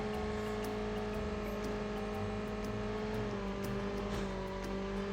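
A car drives in the Call of Duty Mobile video game with a steady, continuous engine hum and whir throughout, no speech, and faint ticking clicks layered over the drone.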